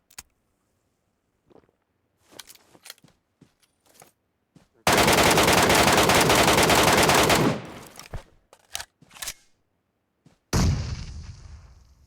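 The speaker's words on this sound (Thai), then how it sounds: "มีตัวไกลยิงด้วยนะ" Gunfire in the mobile game PUBG Metro Royale: a sustained, loud automatic burst lasting a few seconds, framed by scattered single shots and clicks, then a sharp blast fading away near the end.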